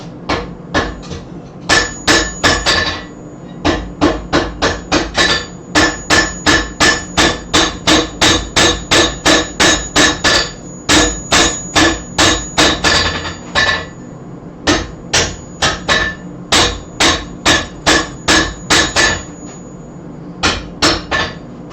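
Metal being hammered and flattened to form a Christmas bell, with dozens of sharp ringing hammer blows landing in fast regular bursts and brief pauses, loud and close.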